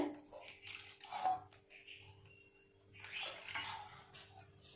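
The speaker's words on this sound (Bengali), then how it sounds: "প্রথমে কিছুটা দুধ নিয়ে নেব এই বাটির মধ্যে" Milk poured into a bowl while preparing French toast, a soft liquid splash and trickle in two short bursts, fairly quiet with some room noise between.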